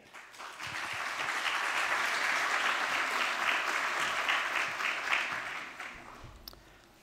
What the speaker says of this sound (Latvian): Ar līdzīgi sirsnīgiem aplausiem vēlētos aicināt Rīgas Stradiņu Universitātes veselības studiju prorektoru asociēto profesoru Andri Skridi